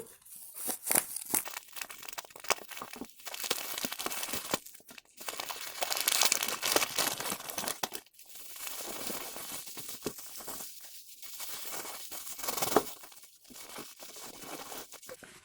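Continuous crinkling and rustling of plastic packaging, with occasional tearing, close up and handled in bursts across the whole stretch, no voices, while unboxing uranium glass buttons.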